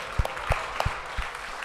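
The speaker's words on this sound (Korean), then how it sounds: "축하나 박수 한번 보내겠습니다." A few sparse, separate claps ring out during a church worship service, about four distinct hand claps spaced evenly, close and fairly loud with no talk over them.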